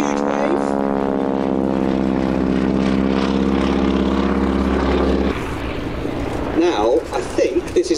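A propeller aircraft drones past slowly at an airshow with wingwalkers aboard, its loud engine tone shifting as it passes, while a commentator talks over the sound.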